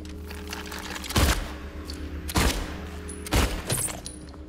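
Three sharp, loud gunshots spaced about a second apart ring out in Silent Hill 2, each a broadband crack with a short ringing tail over a low steady background hum.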